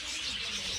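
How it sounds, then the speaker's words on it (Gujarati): Birds chirp inside an aviary at Indroda Park in Gandhinagar, a brief burst of overlapping tweets and calls at moderate distance. "આટલા ટાઈમ પછી આટલો અવાજ સાંભળવા મળે પક્ષીઓનો"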